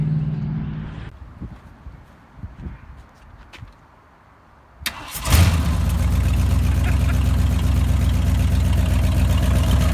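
A project car's engine cranks and catches after quiet shuffling and a few thumps, then settles into a loud, steady rumbling run close by.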